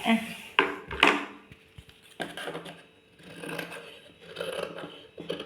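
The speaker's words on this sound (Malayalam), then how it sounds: "ഇനി നമുക്കിത് ഇതിലേ ഇങ്ങനെ മുറിച്ചെടുക്കാം" Scissors cut through maxi dress fabric up close, with a few crisp snips and soft rasping slides of the blades over the cloth, separated by quieter rustling and handling.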